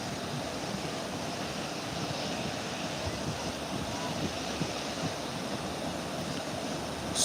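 Ocean waves wash onto a beach in a steady, close, continuous roar of surf, with a faint rumble underneath and no clear breaks.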